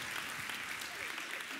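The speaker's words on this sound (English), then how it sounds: "Some of you are clapping, thanks for that." Audience clapping during a talk, a brief, soft, steady patter of applause from a crowd, heard alone without speech.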